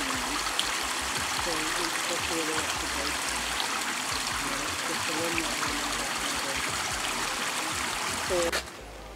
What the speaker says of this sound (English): It's a nice little waterfall.